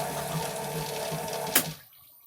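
A quiet bilge pump on the sailboat Islandia hums and sloshes steadily with a low motor tone and running water, then clicks off and falls silent near the end.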